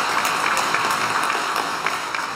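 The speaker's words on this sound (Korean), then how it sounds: "우리 축하 박수" A church congregation at Mass applauding a married couple, a steady wash of many hands clapping together, fairly loud and continuous throughout.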